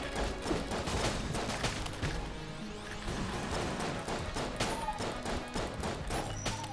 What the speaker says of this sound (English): Fat Bullets plus that Julie pistol is creating a death beam of wonderful proportion.